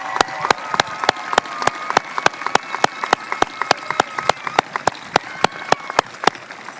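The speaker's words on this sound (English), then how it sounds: "Let's give them a round of applause." Slow, evenly spaced group clapping at a school graduation ceremony as graduating lifers stand to be recognized, each clap sharp and distinct in a large hall, with no talk.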